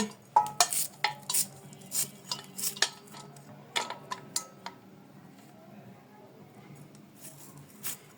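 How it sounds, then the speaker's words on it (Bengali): A knife chops onions finely for onion pakora, sharp separate knocks on a board in irregular bursts, close and fairly loud, with quiet gaps between the runs. "প্রথমে আমি এখানে পেঁয়াজগুলো কুচি কুচি করে কেটে নিচ্ছি।"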